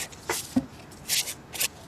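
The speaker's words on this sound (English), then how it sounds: "just passing my sanding paper on both directions so we can have a crisp impression" Sandpaper rubbed back and forth across rubber craft stamps, a few short dry scratchy strokes, close and fairly quiet, with brief pauses between passes.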